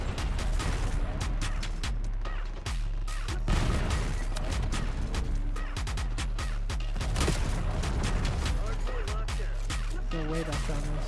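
Dense gunfire in the video game Black Ops 6, rapid sharp shots and bursts with impacts and booms going on nonstop, loud and close, with faint voices underneath.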